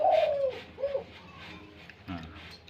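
A small-voiced dove and a medium-to-large-voiced dove coo back and forth, with a few rounded, moderately close coos at an uneven rhythm over faint background noise.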